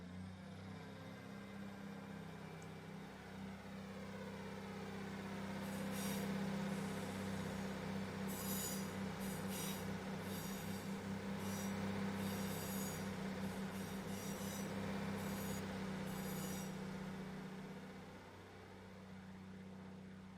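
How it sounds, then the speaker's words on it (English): South Western Railway diesel unit at Bath Spa station rumbling through with a steady low engine drone, wheels squealing and a sustained metallic whine, swelling and then easing over about twenty seconds. "That's the 1149 South Western Railway service to Bristol Temple Meads."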